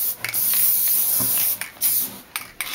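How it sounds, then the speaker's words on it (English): Several bursts of an aerosol adhesive spray can hiss, some short and some longer, close up with brief pauses between them. "Shake it up and spray"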